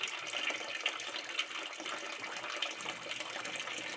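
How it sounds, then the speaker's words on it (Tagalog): Water pouring steadily into a container holding a pet catfish, a continuous splashing gush that runs unbroken and moderately close for a few seconds. "Nilagyan ko ng tubig."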